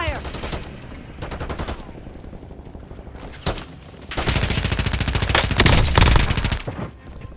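Automatic weapon fire in a squad shooter video game, sustained rapid bursts of shots at close range, loud and rising to dense continuous fire near the end, with brief game voice lines between.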